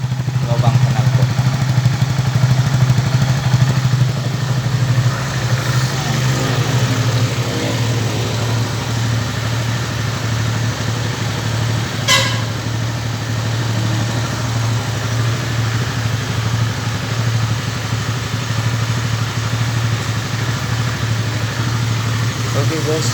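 A Honda Sonic 150R motorcycle engine idles steadily up close, a low constant rumble through the exhaust, with a faint clatter partway through.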